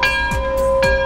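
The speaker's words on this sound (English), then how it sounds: "Somebody ring the bell." A bell rings with a sustained, steady metallic tone and two soft strikes, close and clear, with no talking.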